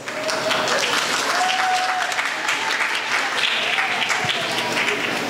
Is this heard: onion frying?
no